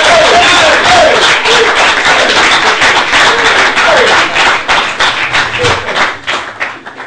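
Audience at a Christian sermon-style talk on sexuality breaks into loud, sustained applause and cheering that fills the whole stretch, with some voices mixed in, thinning slightly toward the end.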